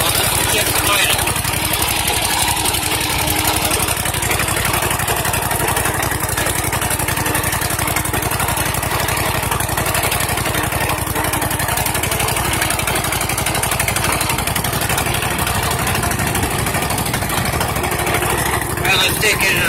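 A rebuilt 21 HP V-twin engine runs steadily on a first test drive with no throttle hooked up, a loud, constant close-up drone with a rough mid-frequency throb and no obvious change in pitch throughout.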